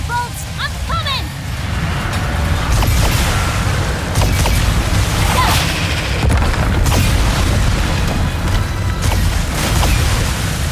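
Explosives detonate repeatedly in Ratchet & Clank: Rift Apart, giving deep booms and crackling blasts over a dense, loud battle din with scattered impact bursts.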